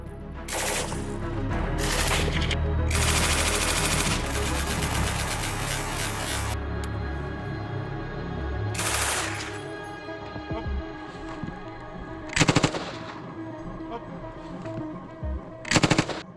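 Machine gun firing at a military training session: a long, dense burst of rapid automatic fire, then a few sharp, loud single shots spaced apart, heard outdoors with no talking.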